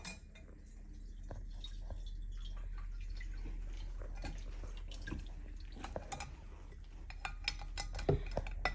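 Water soaked with redbud flowers is strained for jelly, giving irregular drips and small liquid splashes with occasional light clinks of a utensil against a bowl, close and quiet throughout.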